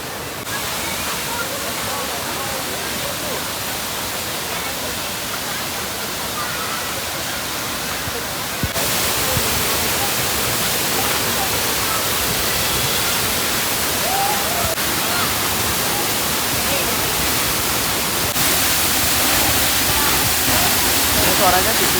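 Constant roaring rush of Montel waterfall on Mount Muria, Kudus, Central Java, after long rain, broad and loud, steady throughout with a few level jumps; voices may be faintly buried in the roar.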